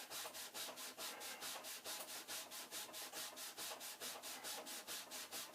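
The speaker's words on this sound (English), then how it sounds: "I will just rub them both" Steady back-and-forth rubbing on the case of a Commodore 8-bit machine, scrubbing off marker, a rhythmic close-up scratchy swish repeating about four times a second without pause.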